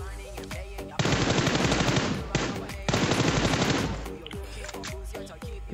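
Machine gun fire in a battle-royale shooter game, two long dense automatic bursts with shorter single shots and clicks before and after, loud and close, with no talk.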